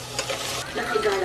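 Food frying and sizzling in a home kitchen pan while being stirred, with steady scraping and hiss close by, no talking.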